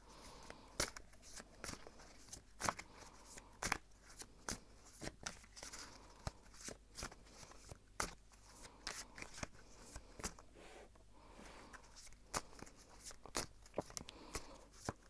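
Tarot cards being shuffled by hand, a rapid run of crisp papery riffles and slaps that comes in close irregular bursts through the whole stretch, with no talking.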